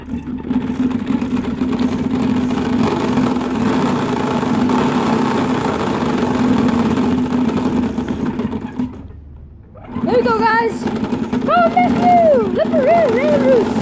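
A bicycle rigged to mimic a motorbike gives a loud, continuous buzzing drone with a steady low hum, cutting out briefly near the end before resuming. Rising and falling whistly tones follow as the noise picks up again.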